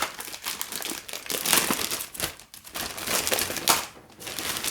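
Close-up crinkling and rustling of a plastic bag being pulled off a newly unboxed ASUS RT-AX53U Wi-Fi router, in irregular bursts of crackly handling noise.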